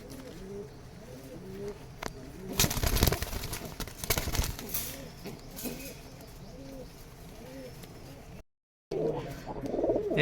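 Rajshahi Giribaz and Pakistani breed pigeons cooing in repeated soft throaty phrases nearby, with a burst of fluttering and clattering in the middle and a brief dropout near the end.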